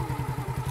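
Motorcycle engine as a learner rider eases off the clutch and gently accelerates, a close, loud chugging idle pulsing in a steady rhythm with a rising mechanical whine.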